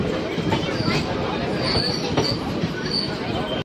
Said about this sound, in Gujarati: આપણે ટ્રેનમાં આવ્યા એ ટ્રેન અહીંયા પડી છે એ ટ્રેન હમણાં ઉપડવાની છે